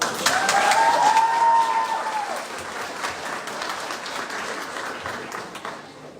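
Secondary school graduation ceremony audience breaking into applause, with a whistle and a few cheers rising early on over dense clapping that gradually eases but continues.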